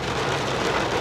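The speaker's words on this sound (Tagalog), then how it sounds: "Lakas na naman ang ulan" Heavy rain mixed with small hailstones hits a surface, with a dense, steady, loud patter that fills the whole second and has no voices.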